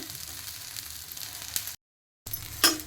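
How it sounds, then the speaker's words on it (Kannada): Chopped cluster beans frying in a pan, a soft steady sizzle with faint crackles and brief stirring scrapes, broken by a short silent gap near the end, close and quiet. "ಈಗ ಮೊದಲು ಚೌಳಿಕಾಯಿನ ಫ್ರೈ ಮಾಡ್ಕೊತಾ ಇದ್ದೀನಿ"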